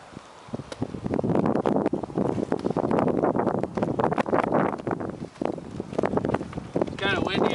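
Gusty wind buffets the microphone outdoors, a loud steady rush with people talking underneath.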